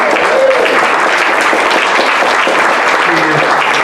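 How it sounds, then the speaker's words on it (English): A conference audience at the Kateri Peace Conference gives a sustained, dense wash of applause for its organiser. The clapping stays steady and loud, with some voices faintly mixed in. "All out applause and more."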